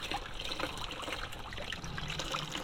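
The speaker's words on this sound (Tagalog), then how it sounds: "Meron sila dito ang free flowing na tubig." Free-flowing water trickles steadily from an outdoor water source at a moto camping spot near an abandoned mine, a continuous close splashing that holds at an even level throughout.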